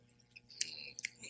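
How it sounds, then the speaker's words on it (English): Close, wet chewing right into a microphone, a few soft smacks and clicks standing out over the quiet. "And just chew it in the mic."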